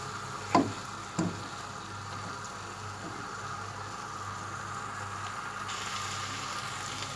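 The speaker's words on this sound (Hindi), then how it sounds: "इसको हम बिल्कुल हाई फ्लेम करके अब इसको हम ड्राई कर लेंगे" Beef for shami kabab sizzles steadily in a pan over a high flame as the last of the water cooks off, a faint, even hiss with a couple of brief clinks near the start.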